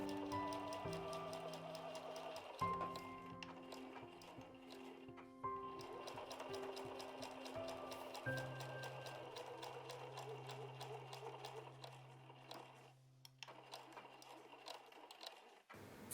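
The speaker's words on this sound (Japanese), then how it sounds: "ついでに持ち手の部分の布端も一緒に縫って連続して縫います。" A sewing machine stitches the fabric edges of a cube bag's handle in continuous runs, its rapid needle clatter steady and close, with brief pauses and a low hum near the end.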